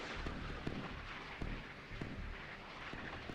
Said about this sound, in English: Gunfire's going all over the place.